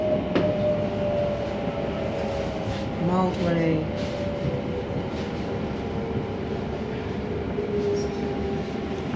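A London Overground train travelling near St James Street, with a steady loud rumble of the carriage, rail clatter and a rising whine as it runs, heard from inside with someone talking over it.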